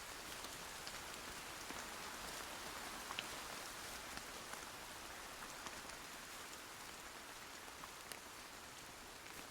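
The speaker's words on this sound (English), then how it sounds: "Oh, the rain sounds, the nature sounds, walking through the woods." Steady rain patters across the woods in the Sons of the Forest video game, a soft, even hiss of drops with no voices or other sounds over it.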